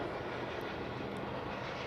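An Airbus A380 airliner flies near Honolulu, arriving over the Kapolei area, with a steady broadband jet roar at a moderate distance, unbroken throughout and with no voices.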